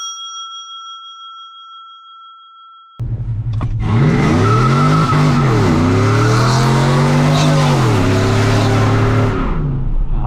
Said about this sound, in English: The real question is, does this truck do burnouts? And yes, it does do burnouts.